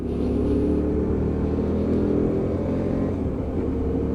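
A Hyosung GT125R motorcycle on a wet road makes a steady, loud engine drone as it works up through its 5-speed gearbox, the rumble holding fairly even with slight changes in pitch.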